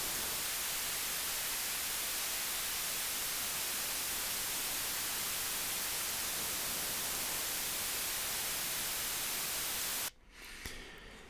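A loud, steady hiss of broadband test noise fills the clip after processing by the Airwindows SubTight plugin, continuous and unchanging, before it cuts abruptly near the end to a quieter, rumbling background.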